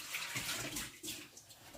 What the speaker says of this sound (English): Wet your hands again because they get dry.